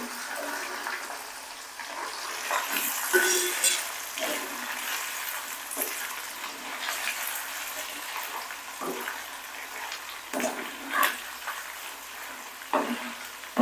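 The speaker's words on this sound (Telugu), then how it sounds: "ఇలా కలుపుకున్న ఈ ఆయిల్లో మళ్ళీ చికెన్ పీసెస్ వేసుకోవాలి." Chicken pieces frying in seasoned oil for chicken pickle, a steady close sizzle with occasional louder bursts and stirring scrapes throughout.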